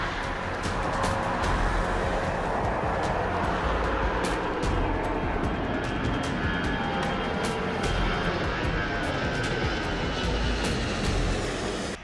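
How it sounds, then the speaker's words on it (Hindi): Aircraft landing and rolling to a stop on a runway in Tehran, a loud, steady engine roar that holds evenly from start to finish with no voices. "तेहरान के रनवे पर एक अनजान प्लेन आकर रुकता है।"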